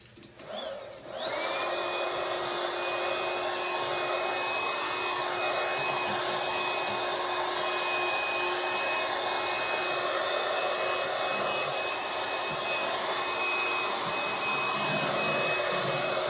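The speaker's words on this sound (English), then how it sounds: "Let's get to vacuuming." A vacuum cleaner starts up and runs steadily and loudly, a continuous whine with high tonal harmonics and broadband airflow noise that holds unchanged to the end, with no talking over it.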